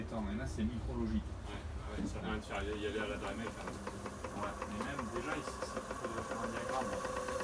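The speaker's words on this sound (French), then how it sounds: "On a lancé le moteur, on est à 500 tours minute." A small nitro engine, an XTR AR3 being run in during an oil-bath break-in at about 500 rpm, runs with a fast, rattling buzz that rises and settles, while voices talk over it.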